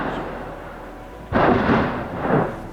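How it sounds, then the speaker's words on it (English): A sudden deep boom erupts after a quiet rumble, followed by a second rolling blast, heavy and resonant like distant volcanic explosions. "Next, let's marvel at the breathtaking eruption of volcanoes."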